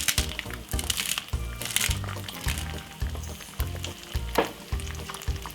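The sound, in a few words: frying for an egg sandwich on a low stove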